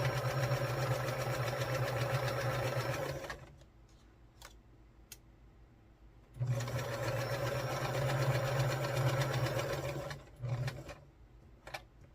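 Sewing machine stitching quilt triangles for a mystery quilt, two loud steady runs of close mechanical whirring with a quiet pause between them.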